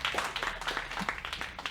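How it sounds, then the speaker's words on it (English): Scattered clapping from a comedy club audience in Bakersfield, a loose patter of hands that stays fairly faint and uneven for a couple of seconds, with some crowd murmur mixed in. "Round of applause"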